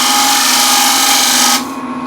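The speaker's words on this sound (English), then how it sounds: "Now let's start with the rim here first. This is spindle gouge" Spindle gouge cutting the rim of a wooden plate spinning on a woodturning lathe, a loud steady scraping whine with the motor hum underneath, the cut easing off near the end.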